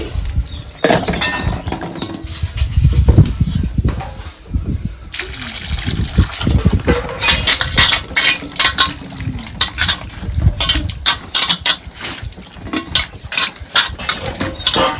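Green tomatoes are rinsed in water, with trickling, sloshing and splashing running close by throughout and brief louder gushes, mixed with handling clatter.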